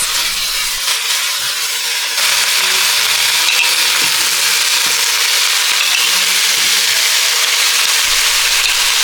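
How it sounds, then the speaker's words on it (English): Pork leg pieces stir-frying with ginger and garlic in hot oil throw off a loud, steady close sizzle and hiss that grows stronger after a couple of seconds, with faint stirring underneath and no talking. "And add the leg pieces and stir fry for a few minutes."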